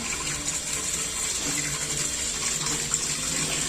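Water filling a clay matka pot in a home kitchen, a continuous loud gushing stream that stays steady and close from start to finish, with no speech over it.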